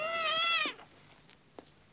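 A cat gives one loud, drawn-out meow close by, followed by faint background noise and a soft click.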